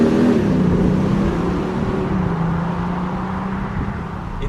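Audi S4 Avant with a high-torque diesel engine pulling hard in fourth gear: a steady, loud, droning engine note with a slowly shifting pitch under road and wind noise from inside the car.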